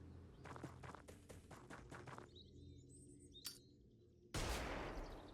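A flashbang grenade detonates in the tactical game Xenonauts 2, a sudden loud blast near the end that follows a run of rapid sharp gunshots and a brief high crack.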